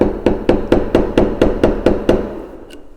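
A hammer taps a wood chisel along a cut line on an end table part, nine light, evenly spaced strikes at a steady rhythm, close and clear with no talking.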